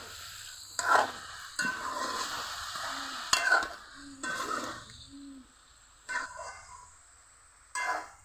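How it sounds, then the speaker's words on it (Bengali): Water lily stems stir-fry in a pan with a soft sizzle, while a spatula scrapes and stirs in irregular bursts and brief quiet gaps fall between the strokes. "এখন দিয়ে দিব শাপলা। কিছুক্ষণ কষিয়ে নিতে হবে।"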